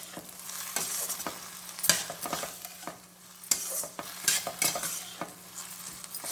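Ingredients fry and sizzle in hot oil for an idli sambar while a utensil stirs and scrapes the pan. Light clinks and soft stirring strokes come and go over a steady sizzle, and no one speaks.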